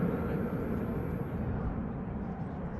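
Lufthansa Airbus A321neo jet climbing out on departure from Manchester Airport, a steady broad engine roar at a distance that holds level throughout with a slight fade toward the end.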